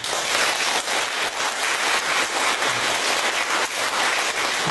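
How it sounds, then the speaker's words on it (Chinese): An audience applauds after a Buddhist temple lecture, a dense, even roar of many hands clapping that continues without a break, with no voices over it. "我们是不是要以最热烈的掌声感谢我们的玉定法师呢？"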